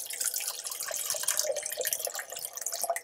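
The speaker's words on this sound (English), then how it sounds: "I'm going to pour it into a cup" Vita Coco pure coconut water pours into a cup, a close, soft, steady liquid trickle and splash lasting a few seconds with no talking.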